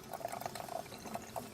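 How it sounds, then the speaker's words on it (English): Hot water spurting from a DeLonghi espresso machine just after a fuse repair, a faint, thin trickle broken by small irregular splashes and drips, steady and close. "let me go ahead and press this up to show hot water coming out."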